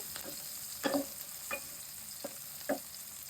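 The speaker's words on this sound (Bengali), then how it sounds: "এখন আমরা এটাকে নেড়ে কেড়ে নিচ্ছি ওটা ভালো করে ফ্রাই হবে" Chicken fries in a pan for a Pakistani-style dish, a steady soft sizzle with several light scraping stirs at irregular intervals, close and fairly quiet, with no talking.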